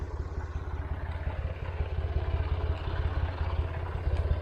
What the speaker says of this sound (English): Massey Ferguson 50 with the Perkins 3-cylinder diesel